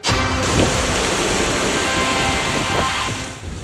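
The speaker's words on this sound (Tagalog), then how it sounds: "Malakas na ulan at hanging dala ng Tropical Storm Hilary ang namerwisyo sa ilang lugar sa Southern California" Heavy rain and wind from Tropical Storm Hilary in Southern California form a loud, dense, continuous roar that holds steady before easing slightly at the end.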